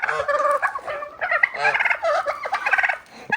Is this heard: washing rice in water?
no